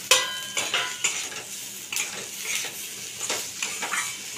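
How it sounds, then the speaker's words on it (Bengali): Fried potato pieces with chili powder sizzle in a pan while being stirred, with a steady frying hiss broken by regular scraping and clinking strokes of a spoon, close and alone without talk. "এটা আরো আমি 2-3 মিনিট ভাজবো।"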